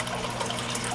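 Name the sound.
aquarium filter water draining from spout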